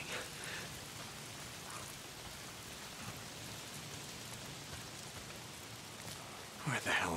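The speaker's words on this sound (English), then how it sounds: "Why is it always raining?" Steady rain patters and hisses in Days Gone, fairly soft and constant, with a few brief louder noises near the end.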